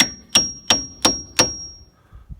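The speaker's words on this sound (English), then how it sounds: "Give it a whack with the hammer." A hammer whacks a wooden wedge into a crack at a greenhouse door: four evenly spaced, ringing metallic strikes close up, then a couple of fainter taps.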